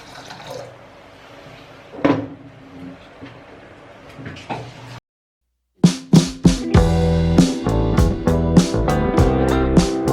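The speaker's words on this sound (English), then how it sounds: "Now I'm gonna be putting in water into this." Light clinks and handling noises, then after a brief silence water pours and splashes into juice in a container, rising in pitch as it fills.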